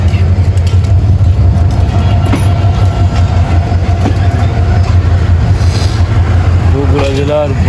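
The Rangpur Express pulls out of Bogura railway station at night with a loud, continuous rumble and rhythmic clatter of wheels from close up, and a horn-like tone rises near the end.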